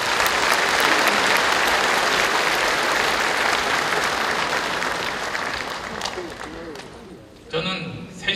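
An audience applauds at a political party convention in Jeju, a dense, sustained clapping that gradually thins out before a brief burst of other sound at the end.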